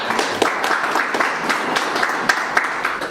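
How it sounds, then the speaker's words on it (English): An audience applauds at a research trust fund launch event, a steady round of clapping from many hands that fills the whole stretch with no voices over it. "Can we give them a round of applause?"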